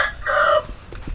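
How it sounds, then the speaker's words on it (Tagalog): A single short, nasal cluck from a brooding hen that has just stepped off her nest, close and fairly loud, followed by faint background noise. "Yung naglilimlim natin na manok dito ay ayan, lumabas muna ng kanyang palaitlogan."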